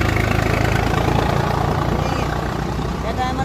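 A tractor engine idles nearby with a steady, continuous low rumble that stays loud throughout, with faint background voices.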